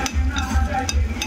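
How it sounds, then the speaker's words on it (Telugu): Green and dried chillies with cumin and garlic fry in a pan with a steady, close sizzle, while brief scraping stirs come through at intervals. "అది వేగుతుంది చూడండి"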